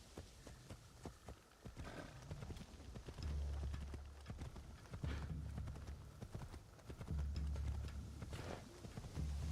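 Horse hooves clip-clop steadily in Assassin's Creed, a brisk rhythmic trot that keeps going throughout, mid-distance and fairly loud, over a low rumbling ambience with no clear speech.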